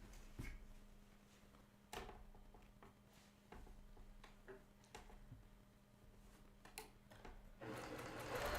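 A sewing machine stitches quilt pieces in short, quiet bursts of rapid whirring and ticking, with soft handling clicks between runs and a louder stretch of stitching at the end.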